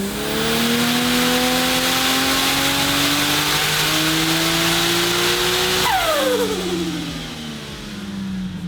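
Turbocharged Ford Barra engine in an all-wheel-drive sleeper bus revs hard on a dyno, a loud sustained climbing howl that peaks and then drops sharply as the throttle lifts, winding down toward the end.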